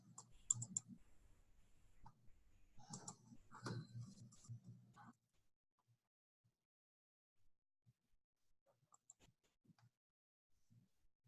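A computer mouse clicking on a spreadsheet dialog: a quick cluster of close clicks, then a busier burst a few seconds later, followed by a few sparse faint taps in near silence.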